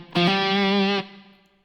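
An Enya Nova Go Sonic smart guitar sounds a single strummed chord that holds steady for about a second, then cuts off and leaves a long, smooth reverb tail fading away alone.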